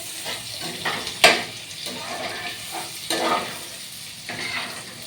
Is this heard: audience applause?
no